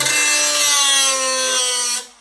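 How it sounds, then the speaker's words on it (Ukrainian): A loud, steady high-pitched grinding whine of an angle grinder cutting transformer iron, running continuously for about two seconds before cutting off. "Дивіться, перевіряємо болгаркою."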